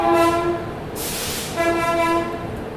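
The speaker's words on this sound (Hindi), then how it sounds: "सामने अराइव हो रही है योगा एक्सप्रेस।" Yoga Express arriving at Jaipur Junction sounds a loud, sustained train horn in two blasts, a brief hiss between them, over steady rumbling rail noise.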